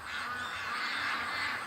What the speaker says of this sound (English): This is a horde of ducks.